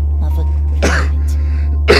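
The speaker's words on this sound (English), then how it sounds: "Sorry if the coughing's interrupting the cutscene." A few brief coughs and throat clears from a player in Danganronpa, two short bursts over a steady low hum, close to the microphone.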